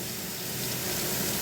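Sliced bitter gourd fries in a pan, giving a steady, close hiss of sizzling oil that builds slightly louder over the short stretch, with no voices.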